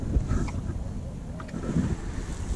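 Tohatsu 15 hp outboard pushing a Boatworld 330 Pro inflatable up a river at Littlehampton, a steady low drone blended with wind buffeting the microphone and water noise, continuous and fairly close.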